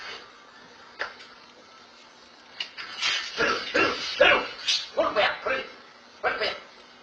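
A guard dog barks in short, sharp bursts at an intruder, several barks in quick succession close by, with brief gaps between volleys.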